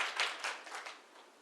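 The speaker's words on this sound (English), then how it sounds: "Round of applause." Audience applause at a workplace success talk in Morris County, a short burst of clapping with a few distinct claps fading away quickly, fairly faint.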